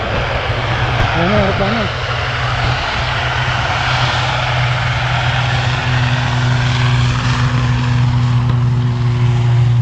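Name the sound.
jet aircraft flying over a Singapore runway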